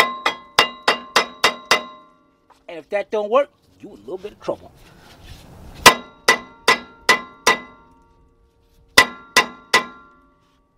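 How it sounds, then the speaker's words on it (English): Sharp metallic clangs from a small hammer striking the rear brake rotor of a 2003 Ford Explorer 4.0, ringing out in rapid bursts of several hits, with someone speaking briefly between the volleys. "You get your little baby hammer."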